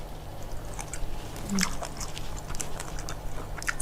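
Someone chews cooked bat meat with slightly chewy skin, close to the mouth. Wet, clicking bites and mastication repeat irregularly over a steady background.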